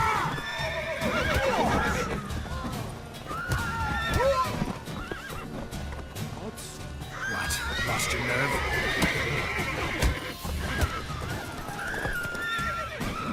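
A horse whinnies and neighs repeatedly amid clip-clopping hooves and sounds from The Witcher 3: Wild Hunt, with someone talking over it.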